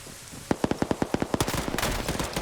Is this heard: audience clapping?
no